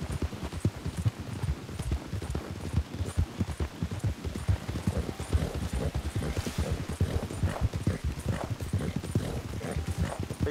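Rapid, continuous clip-clop of several horses' hooves in a video game, over a low rumbling background, steady and close, with no talking.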